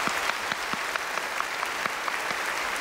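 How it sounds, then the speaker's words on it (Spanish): Steady applause from a crowd at a Cuban television Olympics program, dense and even for about three seconds, with no voices over it. "Un aplauso para eso."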